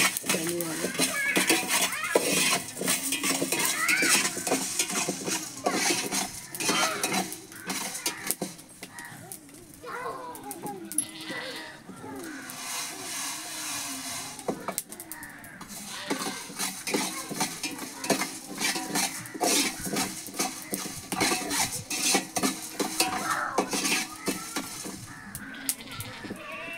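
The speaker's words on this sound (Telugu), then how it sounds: "ధనియాలు అయితే వేగిపోయినాయి" Coriander seeds dry-roasting in a pan while being stirred, a dense run of scraping and rattling strokes that continues steadily under talk, prepared in a home kitchen during fish curry cooking.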